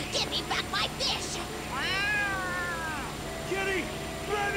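Cat meowing in the video game Yakuza Like a Dragon, several drawn-out, rising and falling meows with a caterwauling edge, heard clearly over background game sound.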